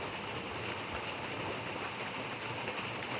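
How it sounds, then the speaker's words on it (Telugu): Rain falls outside a village home during a monsoon spell, a steady, even wash of noise with no distinct drops standing out. "బయట అయితే వాన్ వస్తుంది"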